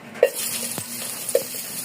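Garlic sizzling in hot cooking oil in a pot, a continuous hiss broken by a few sharp clinks of a utensil stirring against the metal.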